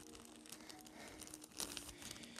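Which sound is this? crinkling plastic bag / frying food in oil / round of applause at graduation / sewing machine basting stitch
crinkling plastic bag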